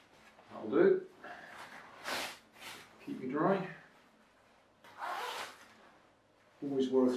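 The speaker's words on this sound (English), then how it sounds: "Checking the zips actually work before you buy something like this in a charity shop." A zipper on a waterproof charity-shop jacket with a fold-away hood is run up and down in several short rasping strokes, with breathy sounds and voices around it.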